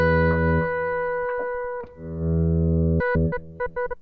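Echoplex Digital Pro looper playing back substituted material on the next loop pass: sustained pitched tones, then a choppy run of short stuttering notes near the end, close and moderately loud without talking.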